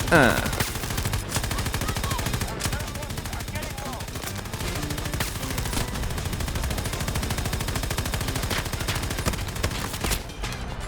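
Sustained rapid machine-gun fire in the shooter Battlefield 2042, dense continuous bursts running loud and steady throughout.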